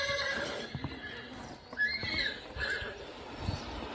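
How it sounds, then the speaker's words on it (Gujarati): A horse neighs in a few rising and falling whinnies, close and moderately loud, over faint background noise and light hoof shuffling. "હા ઘોડો"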